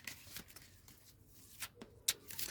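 Soft shuffling of oracle cards, quiet papery swishes and light slaps coming in short bursts, close and faint, with one sharper tap near the end.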